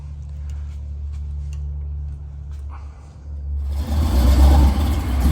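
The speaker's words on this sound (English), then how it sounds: "35 Ford. This is a nice car. It runs, drives great. Listen to that sound though." A 1935 Ford coupe engine runs with a steady low rumble that swells louder and rougher as the car draws near and revs, with no talk over it.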